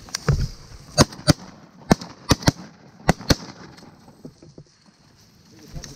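Several sharp shotgun blasts fired while duck hunting for greenheads and pintail in early December, loud and near, spaced irregularly in quick pairs, with a few fainter reports and low water or boat noise between.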